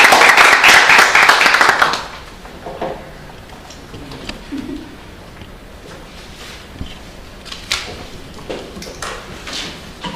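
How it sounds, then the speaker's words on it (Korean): Audience applause at a Korean panel discussion on new directions in unification education, a burst of clapping for about two seconds that quickly fades into quiet room noise with scattered small knocks. "박수 부탁드리겠습니다."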